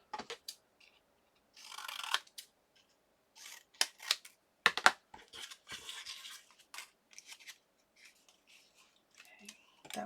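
Scissors snip through a scrap of paper for tag crafting, a scattered run of short crisp cuts with pauses between, close and fairly quiet.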